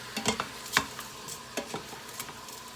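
Ground beef browns in a Pampered Chef Quick Cooker with a low sizzle, while a utensil stirs and scrapes through it in irregular close clicks and knocks.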